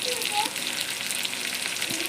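Pork dry-frying in a pan gives a steady, close sizzle that carries on without a break, with a few soft scrapes of stirring. Nobody speaks.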